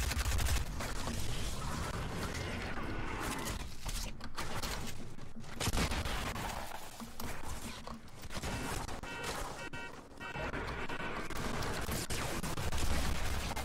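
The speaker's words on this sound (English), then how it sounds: "I'm getting shot from actual people" Rapid gunfire from rival players in Fortnite during a Halloween duos match, dense and continuous bursts of shots, steady and fairly close, with faint talking mixed in.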